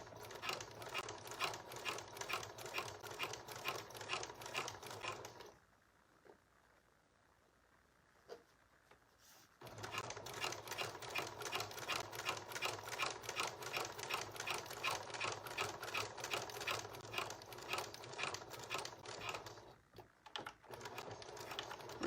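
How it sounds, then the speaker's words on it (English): A sewing machine top stitches a flat felled seam on jeans, running in long steady bursts of fast, even mechanical ticking, with a pause partway through before it resumes and a brief dip near the end. "continue to top stitch right along that edge"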